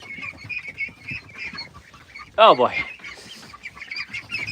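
Ducks and chickens call around a backyard pen as the birds are shooed out toward the chickens, with a loud squawking burst midway over ongoing clucks and quacks, while people talk and a short exclamation rises above it all.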